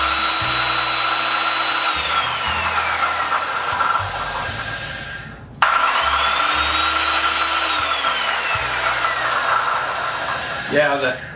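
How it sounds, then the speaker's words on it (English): A worm drive circular saw with a rattling, worn worm gear runs in two long steady passes, its loud whine rising then sagging under load, with a sharp break between runs and a brief rattle at the end. "the worm gear's rattling pretty good"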